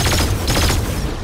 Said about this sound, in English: Shoot it with your Evo Chrome AR.